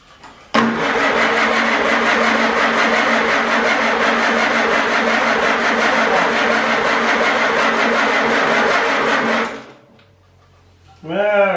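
Farmall Super A tractor engine cranking and trying to start, a long steady rhythmic churn of the starter for about nine seconds that cuts off abruptly, followed by a brief pause and then voices.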